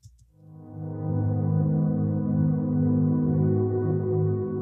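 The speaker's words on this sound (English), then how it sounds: "So I then opened this translucent patch, which by itself sounds like this." A translucent synth pad patch swells in softly after a brief click, then holds as a sustained, layered chord with shimmering harmonics, alone and moderately quiet.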